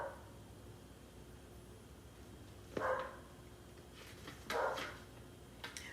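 A dog gives a few faint, short barks spaced apart in a quiet room, with a little yip near the end.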